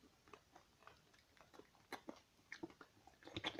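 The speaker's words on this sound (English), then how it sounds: "Chew faster like this." Someone chewing Warheads sour candy up close, with soft wet mouth clicks and crunches that come irregularly and grow a bit busier toward the end. The chewing is quiet, and nobody talks over it.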